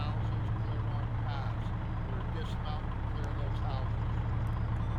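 A military open truck's engine runs with a steady, loud, low rumble throughout the whole stretch, continuous and close, with faint voices mixed in during a field exercise.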